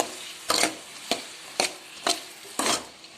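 Spatula stirs tomatoes and onions sautéing in a pan for a drumstick kara kuzhambu, five distinct scraping strokes in a steady rhythm over a faint sizzle, close and fairly quiet.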